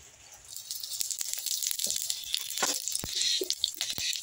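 Panch phoron spices hit hot oil in a pan and sizzle with a bright, steady hiss, dotted with quick pops and crackles, close and fairly quiet, with no talking.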